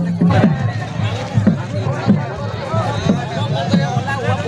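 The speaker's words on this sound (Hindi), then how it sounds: "देख सकते हैं दोस्तों किस तरह से यहाँ पर भीड़ उमड़ पड़ी है" A large crowd packs the Radha Rani ground in Banku for a Tiger Jairam Mahato rally, a dense, loud babble of many voices with repeated rising shouts and calls every half second or so.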